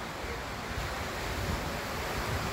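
Night surf at the shore in Aguada, Puerto Rico: a steady, close wash of breaking waves with wind rumbling over the microphone.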